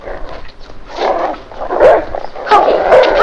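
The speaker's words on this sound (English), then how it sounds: "I haven't heard Corky bark in ages" A dog named Corky barks several times up close in a 1952 film noir, loud sharp yaps in quick bursts with a whimpering edge.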